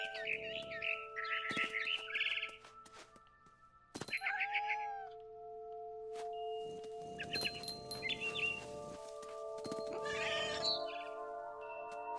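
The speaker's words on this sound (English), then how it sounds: "Then I heard chirping outside my window." Synthetic bird chirps and cat-like meows from the game What Remains of Edith Finch ring out in short bursts over a steady electronic hum, with tonal beeps between calls.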